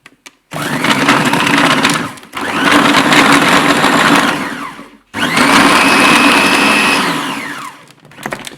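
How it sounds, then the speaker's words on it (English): A food processor pulses plain flour, caster sugar and fat into fine crumbs. Three loud whirring runs of a couple of seconds each are split by short pauses, and the motor pitch rises and falls within each run. "Now you simply pulse this together until you get fine breadcrumbs."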